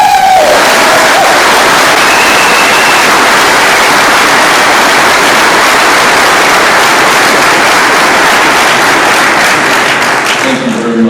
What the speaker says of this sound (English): Can we give a resounding applause for this?